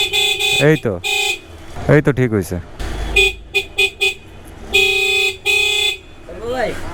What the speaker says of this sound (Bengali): এই হর্নটা এটা হচ্ছে কিন্তু একদম ইন্টারন্যাশনাল হর্ন, এটা কোনো একটা চাইনিজ বাইকের হর্ন।